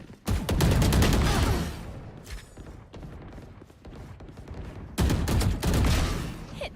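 Dense bursts of rapid gunfire in the tactical shooter Valorant, loud and close, with a sustained volley, a brief thinner stretch of scattered shots, then another heavy barrage near the end.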